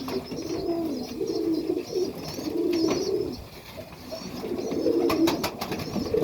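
Serbian Highflyer pigeons coo in a loft in Melbourne, Australia, with low, rolling calls overlapping almost continuously, close and fairly loud, joined by a few sharper chirps near the end.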